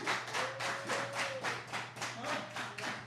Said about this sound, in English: And the fans clapping.